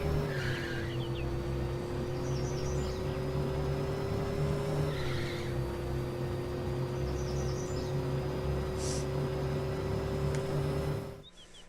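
A Gen 4.5 performance car launching from a standing start on grippy tires, its engine droning loud and steady, dipping briefly at a shift midway, then cutting off abruptly at the end.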